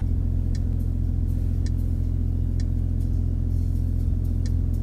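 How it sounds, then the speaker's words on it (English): A 2018 Porsche Panamera 4 E-Hybrid Sport Turismo pulls forward with a smooth, steady low engine rumble heard from inside, along with faint repeated ticking, and nobody speaks. "It accelerates in such a linear way."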